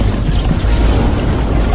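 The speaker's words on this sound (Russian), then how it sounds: "Такая вот водичка, журчит" Continuous rushing water of a small forest brook by a temple babbles and splashes steadily, dense and close, with no voices.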